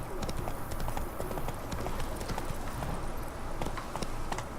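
Hooves of a galloping horse in The Witcher 3 Wild Hunt pound in a fast rolling rhythm, close and continuous, with game ambience underneath.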